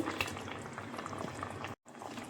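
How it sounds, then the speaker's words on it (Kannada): Chopped mushrooms drop into a pan of simmering peas for a mushroom-and-pea masala, giving a steady, close bubbling and sizzling with a brief dropout near the end. "ಇವಾಗ ನಾನು ಕಟ್ ಮಾಡಿ ಇಟ್ಕೊಂಡಿದ್ದ ಮಶ್ರೂಮ್ ಹಾಕ್ಕೊಳ್ತಿದ್ದೀನಿ."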